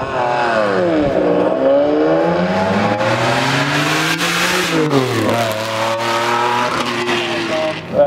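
A V12 6.5 litre car engine revs hard and loud, close by, in repeated rising and falling sweeps of pitch that climb and drop over several seconds.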